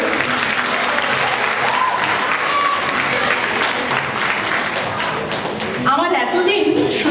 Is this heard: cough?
no